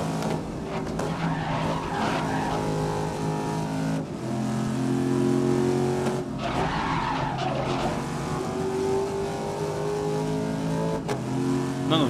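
Race car in the 2019 racing game GRID powering through corners, engine droning steadily with shifting revs while tires squeal and skid in bursts, loud and continuous with no talking.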